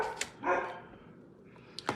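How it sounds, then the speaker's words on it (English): Indoors, a dog barks several times: a sharp yip, a fuller bark, then a cluster of quick barks at the end, moderately loud with short quiet gaps between them. "I know my mom's dog is probably making all of your guys' dogs go crazy."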